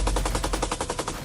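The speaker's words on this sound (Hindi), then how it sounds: "ये लड़ाके मशीन गन से गोलियां बरसा रहे हैं" Rapid machine gun fire on the Zaporizhzhia front in Ukraine, a steady string of about a dozen loud, closely spaced shots in quick rhythm with no talk.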